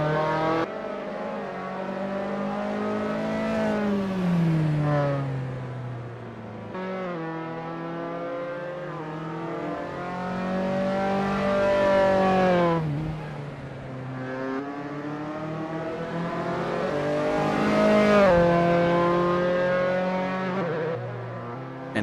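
Racing engines in the Assetto Corsa driving game, a Dallara formula car at Fuji Speedway GP, rise and fall through repeated gear changes, a loud, high-pitched harmonic wail sweeping up and down alone without talk.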